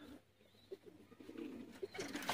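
Sialkoti pigeons coo softly in a few low, rounded calls, faint and somewhat distant, with no one speaking.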